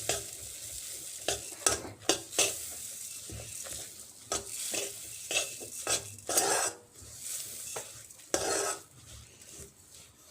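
Sesame seeds are stirred with a metal spoon into a sizzling sweet mixture in a pan for Assamese til sweets, giving repeated scraping clinks and taps over a continuous gentle frying sizzle, close and moderately loud.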